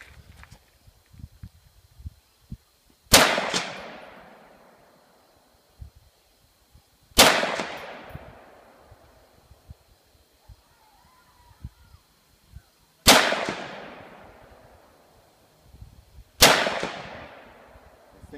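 Springfield Armory M1A rifles fire at an outdoor range as four loud, sharp single shots spaced several seconds apart, each trailing off in a long echo, with quiet knocks and handling noises between them.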